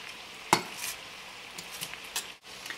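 Cabbage in butter over medium-high heat sizzles softly in a pan, with a sharp utensil clack and several stirring scrapes against a steady frying hiss; quiet and close, no talking.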